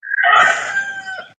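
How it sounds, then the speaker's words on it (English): A rooster crows outdoors in the morning, one loud, close call rising sharply and then trailing off over about a second and a half, with no talk over it. "I hear the rooster out there making noise"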